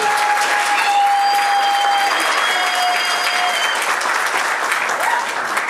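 Guests at a Gabonese civil wedding ceremony burst into sustained, dense applause, a loud continuous wash of clapping with faint crowd voices and high tones threading through it.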